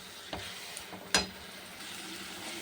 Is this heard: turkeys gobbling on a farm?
no